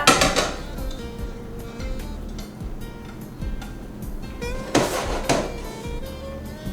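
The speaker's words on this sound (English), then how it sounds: "now we're gonna put our veggies" Vegetables dropped into a cooking pot, with loud clattering knocks of pot and utensils at the start and again near the end and quieter scraping and clinking in between.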